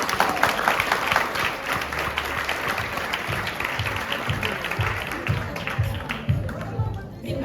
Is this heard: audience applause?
yes